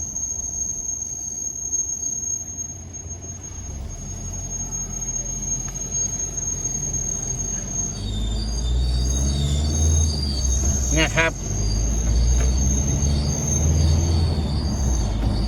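High, steady wheel squeal rings throughout while an Isuzu pickup truck drives, with road rumble growing louder halfway through and a brief spoken phrase over it.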